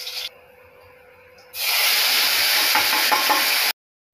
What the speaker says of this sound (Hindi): तेल हमारा गरम हुआ, खड़ा गरम मसाला तड़के के लिए डाल देते हैं।